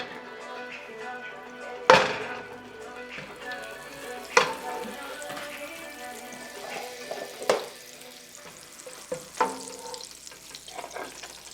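Butter sizzling in a frying pan while cooking chicken cacciatore, a continuous soft frying hiss punctuated by several sharp utensil knocks and clinks, close and moderately loud.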